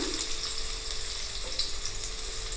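Two chopped onions frying in hot oil in a pan for a spicy Bengali kasundi aloo dum, giving a steady, even sizzle that holds throughout with no pauses and no voices.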